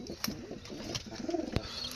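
Pigeons in a breeder's loft, including golden birds, coo in short throaty bursts close by, with a few sharp clicks and rustles between the calls.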